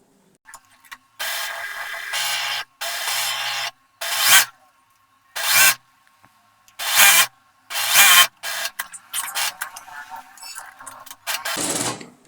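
A sewing machine stitches a contrast fabric strip onto cloth along three sides, running in several loud bursts of one to two seconds separated by short pauses and quieter handling.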